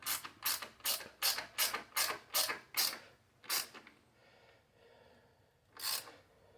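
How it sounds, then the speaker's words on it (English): Ratchet wrench tightening a 13 millimeter bolt while mounting LED driving lights on an Indian Challenger motorcycle: a rapid run of about nine sharp, even clicks, then a pause and a single later click, close and loud. "Hold that bolt and then tighten it up."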